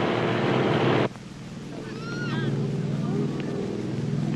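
A cargo plane's engine drones overhead at an airdrop zone, a steady low roar that drops abruptly in level after the first second, then continues with faint chirping sounds mixed in.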